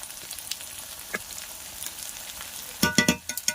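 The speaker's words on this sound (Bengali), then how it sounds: "মশলাটাকে ভালো করে কষাই করব" Spiced masala of salt, turmeric and chilli powder with bay leaves frying in a pan for a chicken-skin curry, a faint steady sizzle with occasional stirring scrapes and a louder burst of clatter and sizzle near the end.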